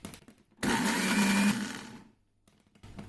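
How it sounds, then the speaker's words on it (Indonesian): A kitchen blender grinds chopped shallots, garlic, galangal and turmeric, its motor starting abruptly with a loud, steady whir that lasts about a second and a half before winding down, with faint background noise on either side. "Bawang merah, bawang putih, sipade, lengkueh, jo kunyit tadi yang lah dicincang dimasukkan ke blender"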